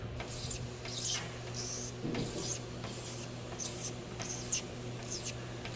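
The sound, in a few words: scraping a surface smooth by hand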